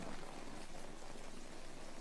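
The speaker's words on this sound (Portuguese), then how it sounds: "No novo megacontinente perto do Havaí, chove a cântaros durante um mês." Heavy rain pours steadily over a vast new supercontinent near Hawaii, a dense, even hiss with no pauses and no voices, faint in level but continuous throughout.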